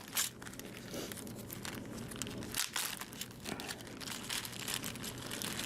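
Plastic bag crinkling and crumpling up close as hands rummage through it for a small model car air cleaner part, steady rustle with a few sharper crackles.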